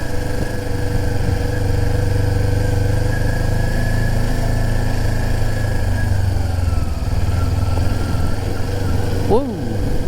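Sport bike ridden slowly in first gear, its engine holding a steady, droning note close by for the whole stretch, with a brief rise in pitch near the end.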